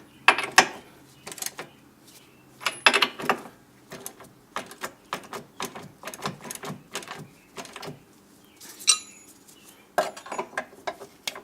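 A wrench ratchets and clicks as bolts are snugged on the rear spring plates of a Porsche 911, in irregular bursts of metallic clicking close by with quiet pauses between them.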